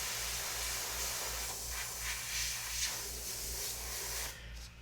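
An airbrush sprays paint through a filigree flourish stencil with a steady, close hiss and a faint low hum, pulsing slightly before cutting off near the end.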